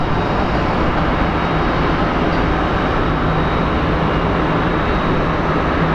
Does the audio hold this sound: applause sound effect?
no